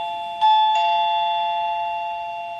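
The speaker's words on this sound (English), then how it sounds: "And then just press the doorbell." A FLOUREON video doorbell intercom chime rings out clearly, two bright struck tones close together followed by a long steady ringing sustain that slowly fades, with no voices.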